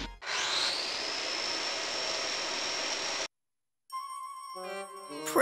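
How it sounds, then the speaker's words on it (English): A chainsaw in the video game Disgaea 3 roars loudly and steadily for about three seconds, cuts off into silence, then gives way to a chiming musical jingle. "What's that chainsaw for?"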